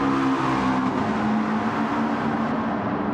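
A McLaren race car in Gran Turismo 7 drives out during a qualifying session, its engine a loud, steady drone with a constant tonal whine across the whole stretch.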